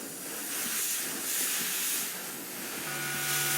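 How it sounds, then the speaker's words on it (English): Unstable steam pressure hissing in a video game, a loud, continuous broadband hiss that swells and eases in slow waves, with a faint tonal hum joining near the end. "Warning. Unstable steam pressure detected."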